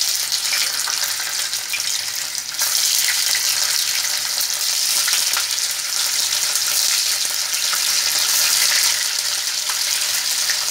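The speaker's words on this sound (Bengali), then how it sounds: "তারপর পনিরগুলো আমি ভেজে নেব।" Paneer pieces fry lightly in hot white oil for a coriander-gravy dish, giving a steady, close crackling sizzle throughout. A few faint stirring touches sit under it.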